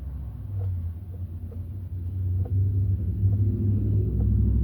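Cars pass on a local 15 mph residential street, a low rumbling traffic noise that rises and falls as vehicles move back and forth, fairly steady and heard alone.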